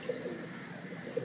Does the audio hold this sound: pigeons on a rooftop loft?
yes